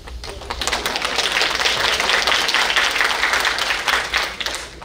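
Audience applause at a 2024 high school academy graduation ceremony, dense clapping from a large crowd that swells quickly and holds steady throughout, filling the hall without any speech over it.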